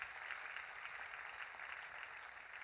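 Congregation in a church clapping steadily together, a dense even wash of applause at moderate distance with no talking.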